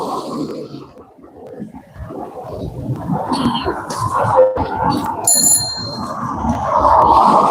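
A bicycle bell on an e-bike gives a brief, bright ring partway through, standing out over steady rumbling outdoor background noise.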